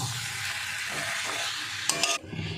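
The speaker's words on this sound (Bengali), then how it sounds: "আর একটু মিশিয়ে দিয়ে আবার 2 মিনিট ঢাকা দিয়ে রাখবো।" Banana flower and fish-head rice are stirred in a pan, with a busy sizzle under scraping strokes and a short burst of clattering utensil sounds near the end, close and fairly loud.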